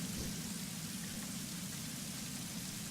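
Heavy game rain from a thunderstorm in Tomb Raider, a dense, even downpour hiss holding at a constant level for the whole stretch.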